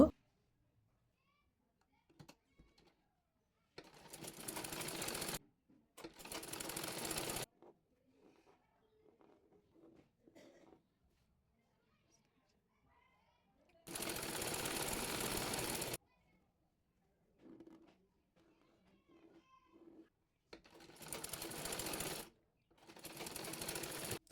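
A sewing machine stitches a design onto a salwar in several loud mechanical bursts of a few seconds each, with quiet pauses and light handling clicks between runs.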